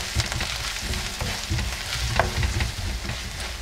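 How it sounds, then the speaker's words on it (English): Spices fry in hot oil in a pan for a crab curry, a close, steady crackling sizzle with scraping stirs and small pops throughout, and no one talking. "then I'm going to add the the spices first and fry the spices in oil"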